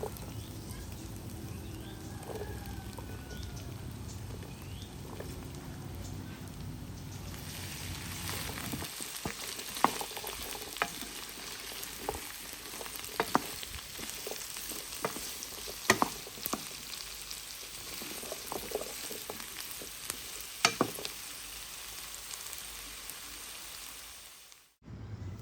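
Vegetables frying in a pan for a fish-in-vegetable sauce, a steady sizzle with scattered clicks and stirring taps, quieter at first and louder once more is added, with no talk.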